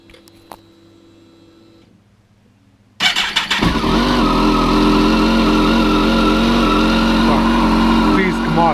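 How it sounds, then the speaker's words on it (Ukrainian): A Kawasaki ZZR1400 motorcycle engine with mufflers fitted cranks and starts after a quiet moment, then settles into a loud, steady, cold idle that fills the rest of the clip, close by in a garage. "І завожу вже з глушівниками для того, щоб воно не тарабанило"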